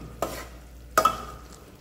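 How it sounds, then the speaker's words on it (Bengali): Doi murgi, yogurt chicken, being stirred in a pot over a medium flame: two distinct scraping strokes under a low, steady background, with no talking. "আর এই স্টেজে এইভাবে মাঝে মাঝে নাড়িয়ে নেবেন।"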